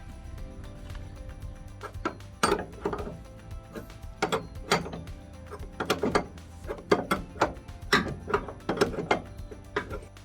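A nut is tightened on the harp bar of a Portafill mesh screen, giving close, irregular mechanical clicks and ratcheting bursts of varying loudness, with no speech.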